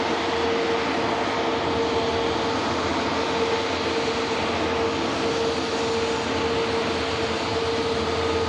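A Canadian Air Force Hercules arrives at an airport, its engines producing a steady, loud droning roar with a sustained tonal hum that holds evenly throughout, with no voices.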